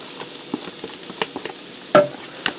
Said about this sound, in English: I'm going to saute the vegetables and the seasonings till the vegetables are translucent and tender.